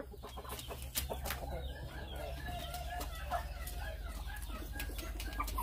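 Chickens cluck and squawk softly while pecking at a new automatic feeder on a farm, scattered bird calls over a low steady hum, no voices.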